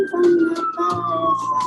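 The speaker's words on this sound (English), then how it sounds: "And then I hear a siren from the" A wailing siren rises and falls in pitch, loud and close, with a voice talking over it.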